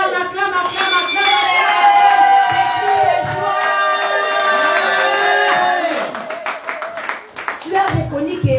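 A church congregation cheering and clapping in acclaim, a loud, sustained crowd roar with whoops and shouted voices layered over music, fading toward the end.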